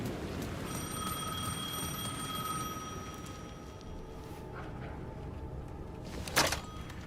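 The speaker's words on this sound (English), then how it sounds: "The phone was ringing again." An old-fashioned telephone rings in the video game Alan Wake 2, its bright repeating bell tones sustained over a low ambient hum, with a short sharp sound near the end.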